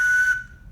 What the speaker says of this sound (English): this slide whistle, it must know about high and low sounds because it starts with a high sound